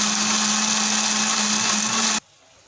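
A blender grinds tomato and spice paste for ayam kesrut in a steady, loud, continuous whir that cuts off abruptly near the end, leaving quiet.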